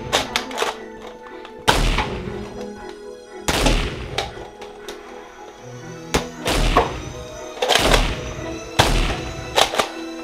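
Foam darts fired from Nerf blasters during a backyard-style Nerf war, a series of about six sharp, punchy thunks spaced a second or two apart, fairly loud and close, with clattering and movement in between.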